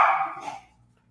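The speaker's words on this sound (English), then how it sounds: "They're barking at my son, who's out on the patio." A dog lets out a single loud bark that fades quickly into quiet room tone, and no one talks.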